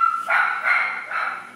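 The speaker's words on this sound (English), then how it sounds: "Excuse my dog." A dog barks indoors in a home, three short close barks in quick succession, fairly loud and alone.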